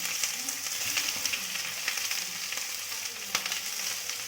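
Onions sizzle in hot oil in a pan, a continuous bright crackle with scattered pops and soft stirring, steady and close, no talking.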